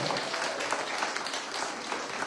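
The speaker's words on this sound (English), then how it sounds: "Let's give them a round of applause one more time for the job well done." Audience applause at a school graduation ceremony after a musical performance by students, a dense, fairly loud stretch of clapping with individual claps poking through, no voices over it.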